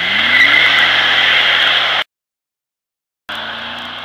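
A 2003 Ford Lightning SVT pickup roars loudly during a burnout, with a harsh sustained engine howl and tire noise, cut off abruptly by a gap of silence before the roar returns.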